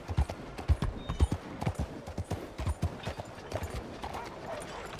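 Horse hooves clip-clopping in the video game Red Dead Redemption 2, a steady rhythmic walking gait of close hoofbeats that gradually softens as the horse slows.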